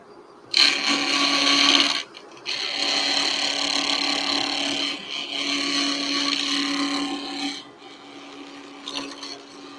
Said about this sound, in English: I leave them a little fat and then I use sandpaper to shape it down to where I want it to be